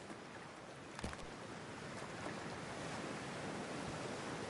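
Water washes and surges steadily in the video game Cyberpunk 2077 as a character heads into freezing water, with a brief splash near the start under a constant windy, wave-like rush.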